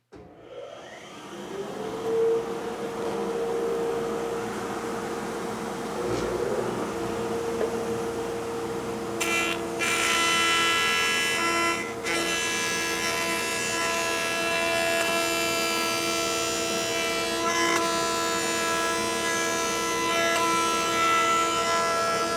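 A woodworking machine in a woodshop spins up alongside a dust collection system, giving a loud, steady whirring roar with a sustained tonal whine that holds throughout, joined midway by a harsher rise in pitch, with no voices.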